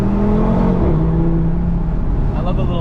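An Audi RS3's engine and dual-clutch transmission hum from inside the cabin, a steady mid-pitched drone that shifts tone partway through, with faint rasping pops near the end.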